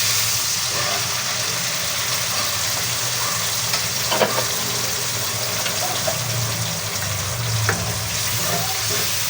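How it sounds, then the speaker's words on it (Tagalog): Half a cup of water goes into a hot pan of fried tomatoes and shrimp paste, producing a continuous hissing sizzle with a few brief clatters and splashy bursts, no voices. "Lagyan po natin ng 1/2 cup ng tubig."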